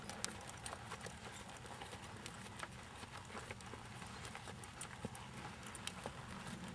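An older horse being ridden, its hooves clip-clopping in a steady, continuous rhythm at moderate distance, fairly quiet throughout with no talk over it.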